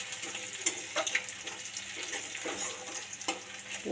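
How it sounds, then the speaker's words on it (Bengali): Onions sizzle and fry in plenty of oil in a home kitchen, a steady crackling hiss with occasional brief stirring clicks, fairly close and with no talk. "পেঁয়াজটা একটু লাল লাল করে ভাজা করে নেব।"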